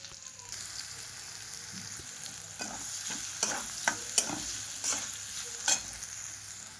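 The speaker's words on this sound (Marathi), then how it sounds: "इकडं सगळं सामान मस्त असं तळतंय" Onion and spices frying in a pan for Marathi misal, a steady oily sizzle with scattered sharp pops and spatters, close and without talk.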